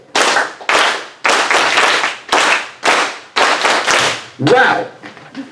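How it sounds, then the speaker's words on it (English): Audience at a talk clapping a rhythm together on cue, loud sharp bursts of massed clapping in an uneven pattern of short and longer groups, ending with a brief cheer or exclamation. "we're going to clap that rhythm"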